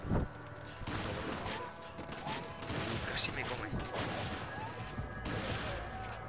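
Gunfire in the video game Resident Evil 5, a dense run of sharp shots and impacts through the whole stretch, loud and busy, with a player's voice talking over it.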